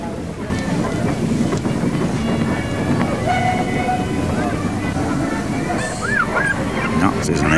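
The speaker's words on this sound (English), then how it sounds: "That is an Aveling steam tractor going very fast," An Aveling steam tractor drives fast while chased by police, giving off a loud, continuous, rumbling mechanical clatter with brief whistle-like tones near the end.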